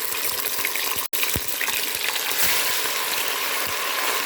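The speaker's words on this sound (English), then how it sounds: "I'm gonna add a chicken in there and start frying it." Chicken breast frying in a pan with little or no oil, a steady hiss and crackle of sizzling that holds even and fairly loud throughout, broken by one brief dropout and a few soft low knocks.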